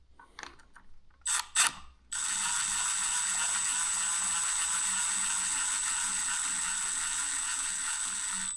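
A cheap adjustable-preload torque wrench ratchets while clamping bolts on a Suzuki SV650 motorcycle, giving a few short bursts of clicks followed by a long, steady, close metallic ratcheting buzz.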